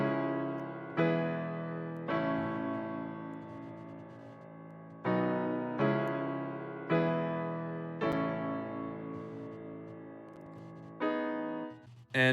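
A Yamaha Grand Piano preset plays a slow, emotional progression of chords over deep bass notes. Each struck chord rings out and decays before the next, with no voices.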